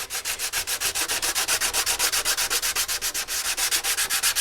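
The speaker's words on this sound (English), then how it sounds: "This is 180 grit sandpaper." Rhythmic back-and-forth sanding of a carbon fiber motorcycle fairing with stiff-backed 180 grit sandpaper, close and steady with about five to six strokes per second, no talk.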